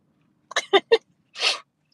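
A single indoor sneeze: a few quick sharp catching breaths build up, then one breathy burst follows, close and fairly quiet, with no talk around it.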